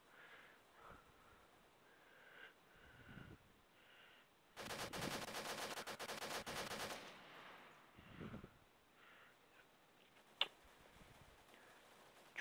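Gunfire in the mobile shooter game Standoff: a dense, rapid burst of automatic fire lasting about two seconds, then quieter scattered clicks and a single sharp shot, faint overall, with no talk.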